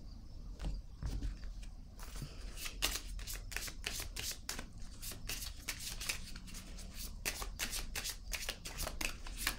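Tarot cards are shuffled and drawn in a quiet room, a steady run of crisp riffling and flicking card sounds, close and fairly soft, with brief pauses between bursts and no voices.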